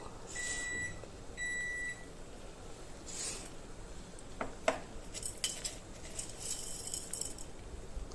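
Dry red chillies stirred in a pan for a coconut chutney tempering, heard as faint, sparse utensil clinks and scrapes; a couple of short electronic beeps sound near the start, with no talking.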